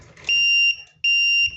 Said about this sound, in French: Et puis, bien sûr, il y a des alarmes partout.